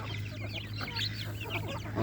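Chickens, adult hens among small chicks, cluck and chatter nearby in a steady run of short calls over a low, constant background hum, with no talk.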